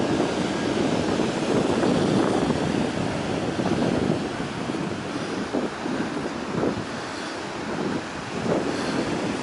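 Surf washing onto a beach, a steady broad rush of breaking waves with swells rising and falling, heavily buffeted by wind noise across the microphone throughout.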